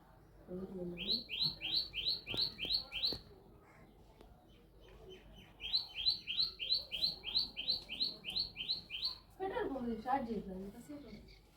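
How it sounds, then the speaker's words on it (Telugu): A bird calling from a tree beyond a garden wall outside a family home, giving two long runs of rapid, high repeated chirps separated by a pause, with human voices nearby. "మీకు ఈ పక్షి పేరు తెలుసుంటే కామెంట్ చేయండి."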